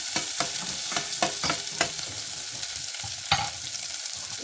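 Onions and green chillies sauté in a pan for a Brussels sprouts curry, giving a continuous close sizzle. Several sharp scraping clicks from a stirring spoon cut through it.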